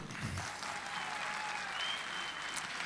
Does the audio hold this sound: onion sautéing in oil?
no